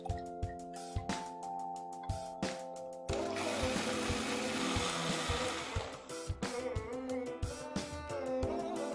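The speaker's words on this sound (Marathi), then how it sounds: "आपण मिक्सर मध्ये हे बारीक वाटून घेऊया" A kitchen mixer grinder whirs loudly and steadily, finely grinding a cooled soup mixture, with a sharp intermittent start before the motor settles into a continuous, close, churning drone.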